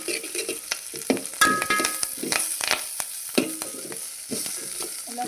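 Ingredients for spicy chutney powder frying in a pan, with a steady close sizzle and continual scraping and rattling from stirring throughout.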